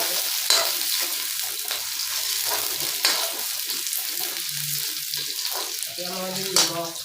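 Chopped potatoes fry in a pan for a mustard and small fish curry, sizzling steadily close by, with several spoon scrapes against the pan as they are stirred.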